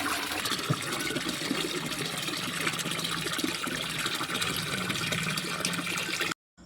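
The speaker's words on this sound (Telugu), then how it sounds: "అందుకే ఇక్కడ వాటర్ని ఫిల్ చేస్తున్నా" A tap runs steadily into a container, filling it with water at home during a power cut. The gushing is continuous, close and fairly loud for about six seconds, then cuts off abruptly near the end.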